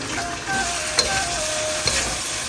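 Sweet and sour pork frying in a pan with black pepper, a steady close sizzle broken by two quick clinks of a utensil stirring against the pan.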